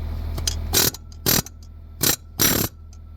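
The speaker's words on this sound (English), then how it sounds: "So what we're doing now is on the belt tensioner down here, it takes just a 1/2 inch ratchet end." A half-inch ratchet wrench works the belt tensioner on a 2009 Ford F150 engine, giving four sharp clicking bursts of the pawl, close and loud, spaced unevenly against a low background hum.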